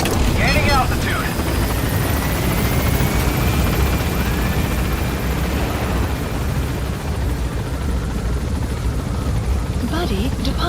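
Helicopter gaining altitude in Metal Gear Solid V: The Phantom Pain, a steady loud rotor and engine drone with a faint rising whine, continuous throughout with brief radio-style chatter near the start and end.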